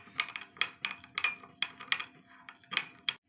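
A spoon clinks repeatedly against a mug while stirring sugar into half a cup of milk, a quick irregular run of bright metallic taps close by, with no talking.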